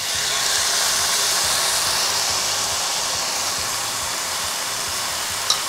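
Pork pieces go into hot frying oil for a salty braised pork dish, giving a loud, steady sizzling hiss that carries on unbroken throughout.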